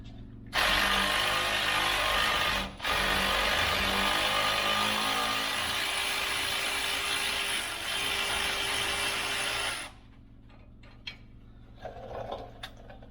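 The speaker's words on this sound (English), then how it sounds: "Now I'm going to see if the battery ratchet will take them the rest of the way out." A battery ratchet whirs loudly and steadily for about nine seconds, backing out wheel bearing bolts on a 2011-14 GMC 2500HD, with one short break in the middle. Scattered clicks and clanks of metal parts follow.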